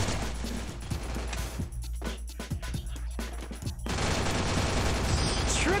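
Gunfire in the Free Fire video game: rapid bursts of sharp shots crackle in clusters, followed by a denser, continuous wash of game sound.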